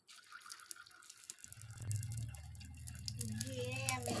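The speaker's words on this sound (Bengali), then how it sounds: "এই শুকনো লঙ্কা দিলাম, এবার পাঁচ ফোড়ন দেব। তেলটা গরম হোক, তেলটা গরম হলে পাঁচ ফোড়ন দেব।" Panch phoron spices with dried red chillies hitting hot oil in a pan, a sudden loud sizzle that starts partway through and keeps crackling steadily, close up in a home kitchen.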